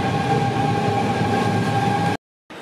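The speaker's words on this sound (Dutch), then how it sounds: "Ik zou zeggen, op naar mijn laatste trein" A train at Rotterdam Waalhaven rumbles steadily and loud with a sustained tonal hum, then cuts to brief silence before the noise resumes.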